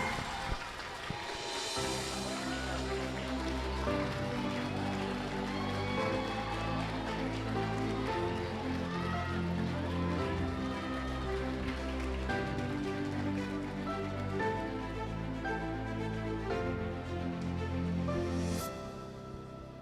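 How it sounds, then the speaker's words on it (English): An audience at a university employee recognition ceremony gives a sustained round of applause for a special award recipient. The steady clapping carries on for most of the stretch, blended with music playing over it. "a round of applause to congratulate our Special Recognition Awardee"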